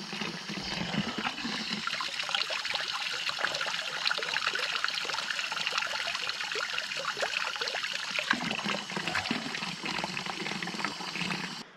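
Water trickling and pouring steadily at a mountain hut on a trail between Chamonix and Zermatt, a continuous bright splashing stream, close and fairly loud throughout.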